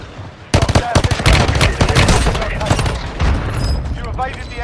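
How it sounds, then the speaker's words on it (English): A close air support strike in Warzone Mobile, a dense barrage of rapid gunfire and booming impacts hitting loud and close, with game voices briefly heard over the din. "Got some close air support!"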